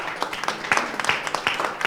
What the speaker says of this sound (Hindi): इसलिए अपने लिए जोरदार तालियां बजा दे जरा।